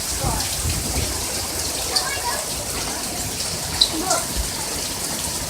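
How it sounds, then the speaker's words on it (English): Heavy rain pours down during a tornado-warning storm, a dense steady hiss of drops on surfaces with a few sharp drips and knocks standing out, heard continuously from close by. "I hate the dang rain."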